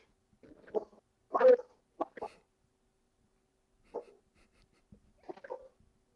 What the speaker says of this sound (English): you can't stop a dog when somebody comes to your door